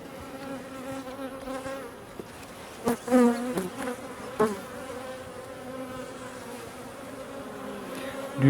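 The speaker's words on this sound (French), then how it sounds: "comme il fait pas beau, les butineuses sont là." Honeybees buzz steadily around an opened beehive during an inspection on an overcast day, with forager bees present; a continuous close insect drone with a few brief louder handling knocks partway through.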